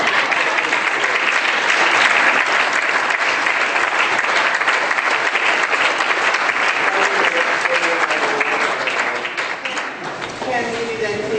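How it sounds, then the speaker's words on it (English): Sustained applause from the audience at a 2014 town meeting in Newfane, steady clapping for over ten seconds that thins slightly near the end, with a few voices underneath. "one more round of applause so Kim, please."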